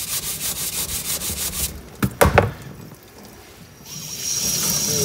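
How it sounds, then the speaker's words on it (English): A brush scrubs honing grit out of the cylinders of a Rotax 582UL engine in close, rhythmic strokes, followed by a few sharp knocks and then a steady rushing wash. "So I'm trying to get right into all the grooves from the new honing to get all the debris out."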